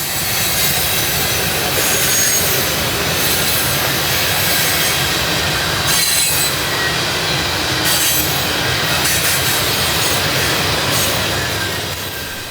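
A heavy freight train loaded with sand rolls uphill on a grade into Mulberry, a loud continuous rumble of wheels and railcars close by, steady throughout with faint squeals and no voices.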